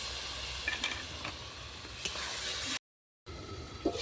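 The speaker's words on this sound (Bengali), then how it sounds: "আদা রসুন বাটা প্লেটটা ধুয়ে মশলাটা একটু কষিয়ে নেব" Ginger-garlic paste and spices fry in a pan on a clay stove, making a soft, constant sizzle with faint stirring clicks, cut off by a short stretch of silence before resuming.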